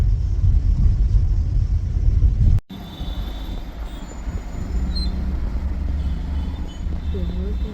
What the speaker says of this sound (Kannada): ಇಲ್ಲೇ ಟ್ರಾಫಿಕ್ ಜಾಸ್ತಿ.